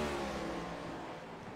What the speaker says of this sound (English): The beauty and sounds of these engines.